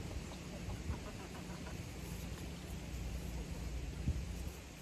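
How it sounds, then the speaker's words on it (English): Roosters kept around a house cluck faintly and intermittently beneath steady wind and outdoor noise, with a few sharper calls breaking through. "Let me go in here and find these roosters."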